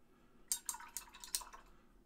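Liquid rinsing through an airbrush used for model painting, a short burst of several quick sputtering spurts close by, faint and otherwise quiet, with no talking.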